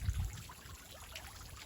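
Water pours and trickles steadily into a garden pond with a liner, a low splashing flow that is heavier at first, then settles into a softer continuous stream, close by and alone.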